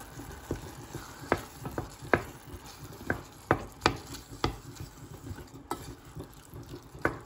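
Masala egg and peas curry frying in a pan, a soft continuous sizzle broken by a string of sharp clicks and taps of a utensil against the pan, close and quiet.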